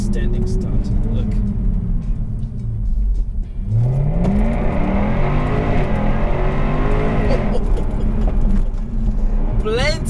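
Jaguar F-Type R accelerating hard from a standing start with electronics off, engine rising in pitch as it gathers speed, loud and close, continuous over about ten seconds with a brief lull before launch.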